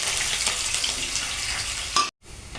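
Sliced onions and green chilies fry with chana dal in a hot tempering, a steady close sizzling hiss that cuts off abruptly near the end.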